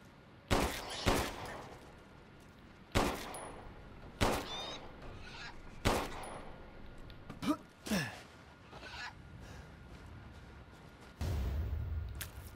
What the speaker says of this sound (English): some of the sounds that the weapons are making sound a little off to me